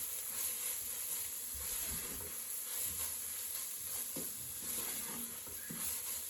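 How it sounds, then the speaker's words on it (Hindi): Spices fried with turmeric and salt in a pan for a peas and keema dish produce a steady, soft sizzle and hiss throughout, with occasional faint stirring scrapes, fairly quiet and close. "इनको अच्छी तरीके से भून लेते हैं।"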